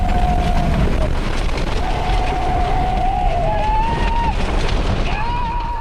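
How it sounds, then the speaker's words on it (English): Tornado-force winds roar steadily over storm chasers' vehicle, a loud unbroken rush of wind buffeting the microphone with faint whining tones drifting through. "The powerful core of the tornado then overtakes Tanner's group's vehicle."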